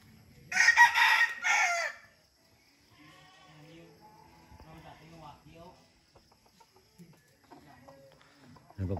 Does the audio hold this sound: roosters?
yes